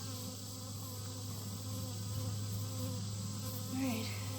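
Honeybees at a hive drone in a steady, continuous hum throughout, with a louder close pass near the end; no talking.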